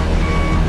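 A heavy truck reverses in Euro Truck Simulator 2 on a hairpin bend at Maninjau, with a steady electronic reversing beep sounding continuously over a loud engine drone.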